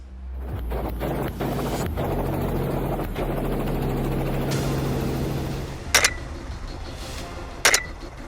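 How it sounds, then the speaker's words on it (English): Helicopter rotor blades whir and thump continuously, fading somewhat over time, with wind buffeting the microphone and a couple of sharp bumps near the end. "the loud noise generated by the rotor blades"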